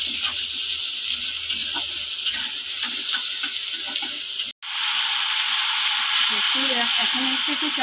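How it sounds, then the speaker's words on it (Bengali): Potatoes with turmeric and salt frying in a pan, a steady loud sizzle with faint stirring scrapes; it cuts out briefly midway, then returns brighter and more intense. "মধ্যে একটু হলুদ দিলাম, একটু নুন দিলাম, দিয়ে এটাকে ভেজে নেব।"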